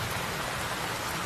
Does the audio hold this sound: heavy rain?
yes